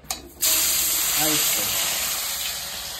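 Turmeric-coated fish frying in hot oil, a loud, steady sizzling hiss that bursts in sharply after a brief sound and holds for the rest of the clip, with a short voice underneath.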